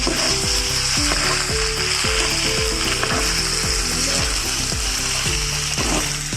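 Oyster sauce being stirred through a stir-fry in a hot pan, giving a steady close sizzle with a repeated scraping, ratcheting rhythm of utensil against pan roughly every half second, with no talking.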